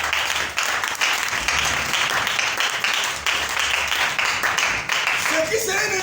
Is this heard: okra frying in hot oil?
no